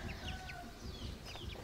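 Chickens cluck softly in a rural Laos farmyard, with short chirpy calls scattered over a low rustling background, fairly faint.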